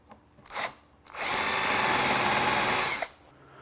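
A power drill drives an 1/8 inch bit into wood for pilot holes on a workbench tool caddy, a brief whir followed by a loud, steady high-pitched drilling burst lasting about two seconds, close up.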